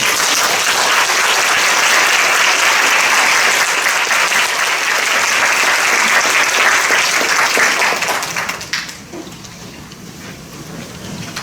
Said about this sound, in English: I would like you, all of you, to give a big round of applause